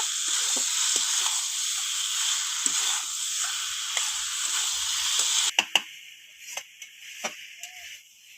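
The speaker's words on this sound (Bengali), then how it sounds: "এবার দিয়ে দেবো আমি ভেজে রাখা আলুটা মশলার সাথে ভালোভাবে আলুটা কষিয়ে নেব" Fried potatoes sautéing with spices in a pan, a steady hissing sizzle with scattered ticks of stirring, then the hiss drops away, leaving sharper intermittent clicks and scrapes.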